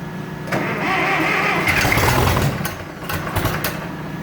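A 1966 John Deere tractor engine, choke on, catches and runs in a steady mid-pitched idle with continuous rumble and some uneven throbbing, close and fairly loud throughout.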